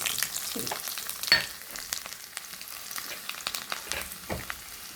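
Shallots frying in coconut oil on a tava sizzle and crackle in steady bursts of spitting pops, close and fairly quiet, with a louder crackle near the start.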